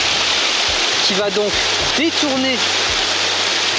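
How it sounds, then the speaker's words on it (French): Water rushes continuously along a river feeding a fishing pond, a loud, close, steady wash of flow that runs under someone speaking briefly. "c'est cette rivière qui alimente en permanence, donc avec le débit principal là-bas, la rivière"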